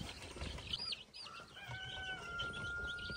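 Poultry under a heat lamp on a homestead give off several soft clucks and chirps, with a brief flutter of wings, over a quiet background hum.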